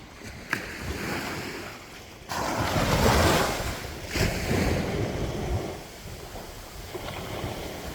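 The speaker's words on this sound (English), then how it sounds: "listening to the sound of the waves" Ocean waves roll and crash onto the shore at Icacos in broad swells, mixed with gusty wind buffeting the microphone.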